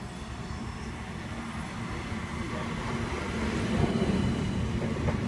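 A Sydney Trains Oscar H set approaches, a steady rumbling roar of wheels on rail that builds slightly louder toward the end, with no talking over it.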